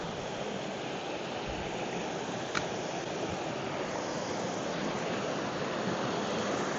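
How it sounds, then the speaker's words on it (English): A small waterfall on a state park walk gives a steady, even rush of falling water that carries through the whole stretch, fairly close, with one brief sharp knock partway in and no talking. "Got a little waterfall, see if he wants to check it out."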